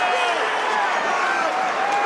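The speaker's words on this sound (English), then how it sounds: "as he milks the applause" Crowd applauding and cheering in the covered end of a football ground as a Charlton player soaks up the ovation, a dense steady roar of clapping and voices filling the whole stretch.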